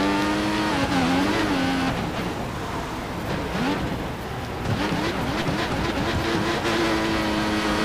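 An F1 race car launches hard in the F1 2014 racing game, its high-revving engine climbing in pitch through quick gear changes, loud and sustained with no one talking over it.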